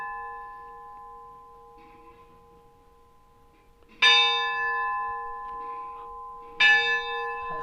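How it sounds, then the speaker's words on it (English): A large metal bell rings twice, each loud clang followed by a long, humming resonance that slowly fades. "Someone ringing the bell here."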